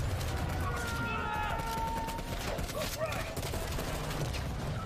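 Bursts of gunfire rattle while shooting at a vehicle's driver in Call of Duty: Black Ops Cold War, a busy mix of rapid shots and mechanical clatter with voices in the background.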